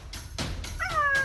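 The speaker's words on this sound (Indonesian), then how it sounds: "Cheetah mengeluarkan suara yang mirip dengan kucing pada umumnya." A cheetah gives a short, cat-like, meowing call with rising and falling tones, close and fairly clear, after a couple of soft breathy sounds.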